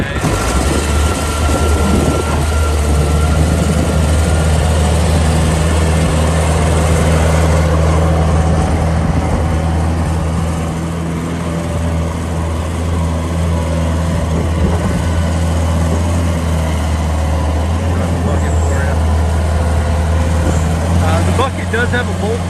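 A Case 1845C skid steer engine runs close and loud with a steady droning hum and whining hydraulics during a demo, the tone shifting slightly as it works, with someone talking over it.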